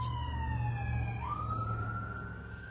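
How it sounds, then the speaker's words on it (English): Emergency vehicle siren wailing steadily outdoors, its pitch sliding down and then stepping up again, loud and continuous over low traffic rumble. "Here come the sirens too."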